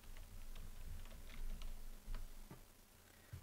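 Soft, quick typing on a computer keyboard, a run of light, irregular key clicks over a low steady hum, close and without talk.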